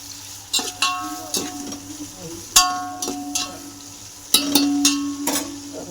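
Chopped onions frying in oil in a cooking pot for a gravy, with sizzling under repeated sharp metallic clinks and scrapes of a stirring spoon against the pot.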